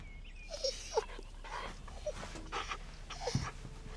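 A dog whines and whimpers in short, high-pitched bursts between soft panting breaths, close by and fairly quiet.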